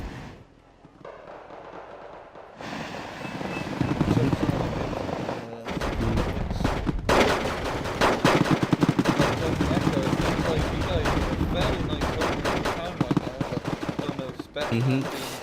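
Gunfire in a Wargame Red Dragon battle: bursts of rapid machine-gun fire and scattered heavier thumps, dense and continuous after an opening lull, with commentators talking over the battle.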